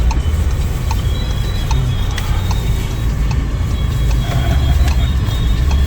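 A car pulls out on a street in Kosovo, heard as a steady close engine rumble and road noise from inside a moving vehicle.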